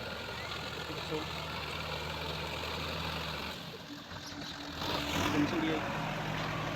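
A Sonalika tractor pulling a rotavator drives slowly through a muddy, rain-soaked paddy field, its engine a steady mid-pitched drone that dips briefly and then swells again, loud and continuous.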